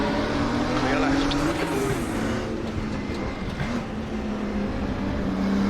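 Race car engines in a racing sim game droning steadily throughout, with a sustained engine tone that rises and shifts in pitch, loud and continuous alongside a voice.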